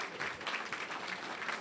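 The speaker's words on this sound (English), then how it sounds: "I want a round of applause." Brief, faint applause from a civic-meeting audience: a dense, even patter of many hands that holds steady for under two seconds, with no distinct voices.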